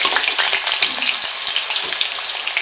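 Potatoes and chunks of papaya frying in hot oil at the start of a light vegetable curry, a dense, steady sizzle that stays loud and close throughout, with small crackles and pops scattered across it.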